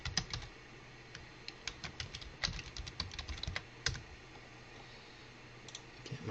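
Password typed on a computer keyboard: a quick run of close, crisp key clicks in uneven bursts, then a pause, over a low steady hum.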